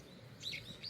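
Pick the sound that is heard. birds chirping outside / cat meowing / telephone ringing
birds chirping outside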